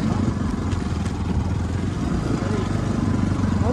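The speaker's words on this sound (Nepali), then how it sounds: "जेठा भ्लगले बाइक राम्रै चलाउँछ" Motorcycle engine running steadily while being ridden, a continuous low mid-pitched drone with clattery mechanical texture, close and fairly loud throughout.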